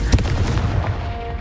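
A Confringo blast spell in Hogwarts Legacy lands as a short, heavy booming burst with a rumbling low end that decays over about a second.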